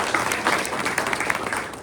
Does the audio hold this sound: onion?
no